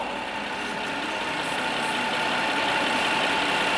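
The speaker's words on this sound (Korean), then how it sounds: "해당 차량 엔진 소리가 굉장히 정숙합니다" Used Hyundai Grandeur HG sedan idling, a smooth, quiet and steady engine hum heard close up with no revving and no voices, an even drone throughout.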